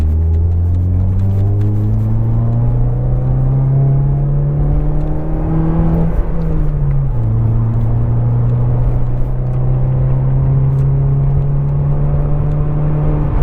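Engine of a 2018 Mazda 3 hatchback while driving, a loud, steady close drone from the cabin that climbs in pitch under acceleration, drops briefly with a gear change, then climbs again.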